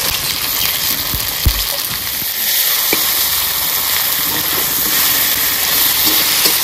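Fish dropped into a hot pan of oil for a Bengali fish curry with turmeric, giving a steady, close sizzling hiss that swells after a few soft clunks near the start and keeps frying evenly throughout.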